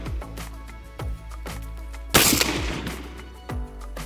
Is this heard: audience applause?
no